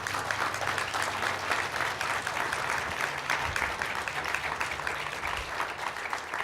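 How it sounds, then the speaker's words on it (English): An audience at a humanities contest event claps steadily in sustained, even applause from start to finish, a moderately distant wash of many hands. "So let's applaud that"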